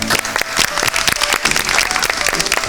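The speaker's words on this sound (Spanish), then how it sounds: "¿Lo recibimos con un aplauso?" Studio audience applause welcoming a guest onto a Spanish-language science TV show, a dense burst of clapping with a few sharper claps standing out, steady and fairly loud throughout.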